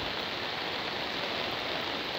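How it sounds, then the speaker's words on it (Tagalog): Rain pours during a storm in the Philippines as a broad, constant rushing wash of noise, steady and fairly loud with no breaks or voices. "Yan ay ulan, yan ay bagyo."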